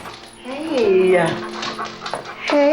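A dog named Boomer whimpers in soft, rising whines over several seconds, close by, with a person speaking over and between the cries.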